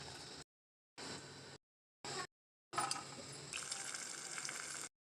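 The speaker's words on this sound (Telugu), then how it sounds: "కాచిన పాలు పోసుకోవాలి దీంట్లో." Boiled milk poured into a pot of cooked wheat payasam, a soft liquid splash heard in short bursts at first, then a longer steady pour; no talking.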